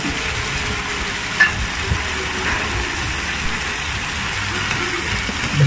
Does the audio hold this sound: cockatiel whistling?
no